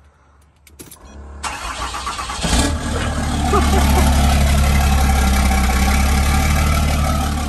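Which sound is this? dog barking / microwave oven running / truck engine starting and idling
truck engine starting and idling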